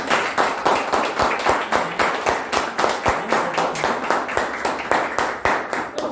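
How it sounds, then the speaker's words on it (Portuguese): A church congregation claps together in a steady rhythmic beat, each clap sharp and evenly spaced, continuing for several seconds. "Nós vamos dar uma salva de palmas para Jesus"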